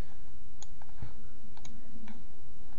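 A computer mouse clicks a few times while copying and pasting a picture into a new folder, with sharp, quiet ticks spaced apart over a low background hum.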